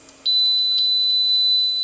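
An Anycubic Mega 3D printer gives a single steady, high electronic beep during bed leveling. The tone begins after a short quiet moment and holds unbroken until the end, with no voices.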